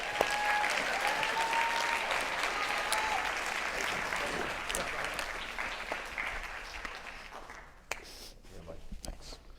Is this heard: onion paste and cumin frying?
no